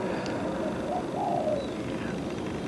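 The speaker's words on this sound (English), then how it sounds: "So that's your spotted turtle dove" A spotted turtle dove in Australia coos softly. The short, low, mellow call sits over steady background hiss and does not stand out strongly.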